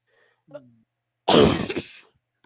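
A short vocal sound is followed by a loud, sudden burst of a sneeze, then quiet.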